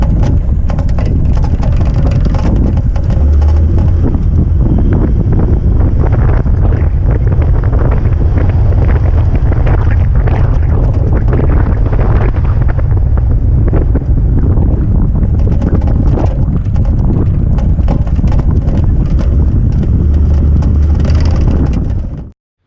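Strong wind buffets the microphone at Canning Stock Route springs in the outback, a constant loud roaring rumble with gusting surges that runs unbroken for the whole stretch with no voices.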